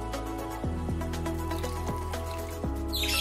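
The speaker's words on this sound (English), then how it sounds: "giving some more water to the aerial roots" Water drips and trickles onto the aerial roots of garden orchids, a few distinct soft drops over a steady background wash, close by and without talk.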